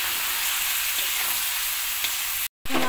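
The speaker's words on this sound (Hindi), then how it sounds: "हमारा ब्राउन हो रहा है और इसके साथ साथ देखिए चिकन भी हमारा फ्राई हो रहा है।" Chicken and onions fry in a pan with a dense, even sizzle that stays loud and close, cut off by a brief gap near the end.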